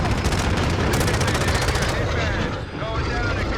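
Loud, continuous automatic gunfire from the Modern Warfare 2 video game, a dense stream of rapid shots with aircraft-like roar beneath, easing briefly near the end before resuming.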